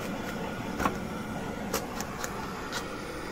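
An Epson ColorWorks C4000 label printer prints health and beauty product labels with a faint mechanical hum and a few scattered clicks and taps.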